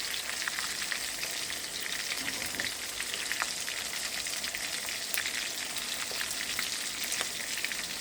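Tilapia pieces fry in hot oil in a pan, reddening as they cook, giving a continuous, even sizzle with fine crackling pops throughout and no voices.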